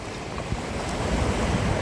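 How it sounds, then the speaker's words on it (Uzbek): Sea waves washing onto a beach at Nha Trang, a broad, rumbling surf roar with wind buffeting the microphone, steady and close with no one speaking. "Ana to'lqinlar keldi."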